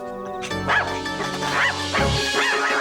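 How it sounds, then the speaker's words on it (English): A balloon-animal dog in the B-movie Killer Klowns gives several short, high yipping barks in quick succession, close and fairly loud, with a whiny edge. "They turn a balloon animal into a sniffer dog."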